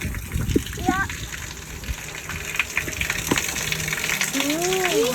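Meltwater gushes from beneath snow along a neighborhood street after a snowstorm, a steady rushing flow running through the whole stretch, with people talking nearby.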